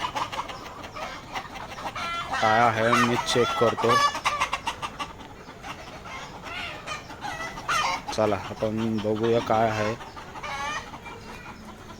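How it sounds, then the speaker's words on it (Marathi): Hens cluck and cackle loudly in repeated bursts, close by, while someone speaks over the commotion. "तिकडे बघा तुम्ही सर्व कोंबड्या आवाज देतात"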